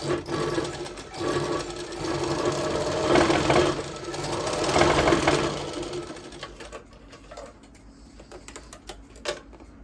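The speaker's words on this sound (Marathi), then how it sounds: "आपले हे कापड आहे याच्यावरती आता मी शिलाई मारत आहे" A domestic sewing machine runs steadily, stitching through cloth during a repair of tangled lower thread, its rapid whirring close and loud for about six seconds before easing off into quieter clicks and handling noises.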